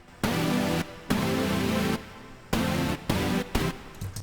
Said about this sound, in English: Really thick pad.